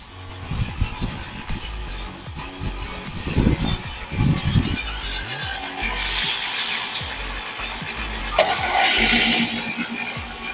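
Sandpaper rubs against a Katalox wood pen blank spinning on a lathe, giving a hissing scratch with a few rhythmic rubbing pulses early on and brighter, louder stretches of abrasion later.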